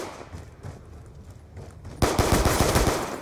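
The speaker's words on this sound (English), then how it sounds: "Fucking shotgun, dude." Rapid gunfire in Black Ops 2 multiplayer on the Hijacked map: quiet distant shots early, then a sudden loud burst of rapid close blasts that continues to the end.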